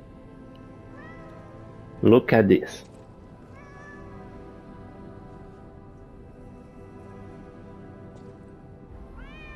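A cat in the video game Lies of P gives a couple of short, loud meows close by, set against quiet game ambience while a player talks excitedly.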